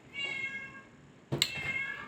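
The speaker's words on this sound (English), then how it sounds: "I had to let the cat in." A house cat meows at the door to be let in, a drawn-out cry followed after a short pause by a sharper, louder meow, close and clear in a quiet room.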